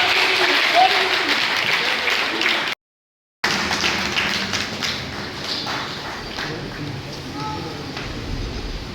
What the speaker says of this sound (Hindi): तालियां हमारी फौज की